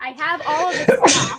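A sharp sneeze bursts out near the end, following a stretch of someone talking, with the sneeze loud and close in an indoor room.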